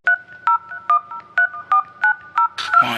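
A phone number being dialed, a rapid even sequence of about eight close, clear touch-tone beeps, each short and evenly spaced, followed by a brief burst of noise at the end.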